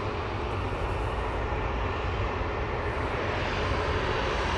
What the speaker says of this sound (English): the mighty Emirates A380 EK21